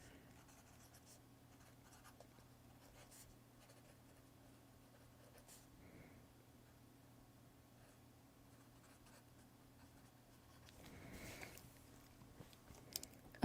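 Handwritten notes being jotted with a pen or pencil at a press conference table, a faint, quiet scratching under a low steady hum, growing a little busier near the end.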